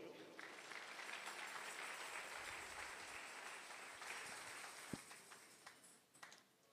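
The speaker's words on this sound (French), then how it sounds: "Je dois applaudir." An audience at a mental health conference applauds, a steady, fairly faint wash of many hands clapping for several seconds that thins out into a few scattered claps toward the end.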